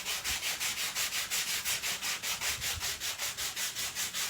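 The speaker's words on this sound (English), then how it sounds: "let me sand this one down a little bit" Sandpaper rubbing over a small wooden candy corn shelf sitter in quick, steady back-and-forth strokes, close and even, with no talking.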